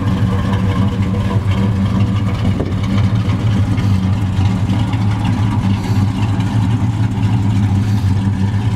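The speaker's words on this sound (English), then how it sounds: "The exhaust is a set of Flowmasters. It's got a good sound." A 1969 Chevrolet El Camino big-block V8 with Flowmaster exhaust idles steadily up close, its deep, even burble holding without pause and no voices over it.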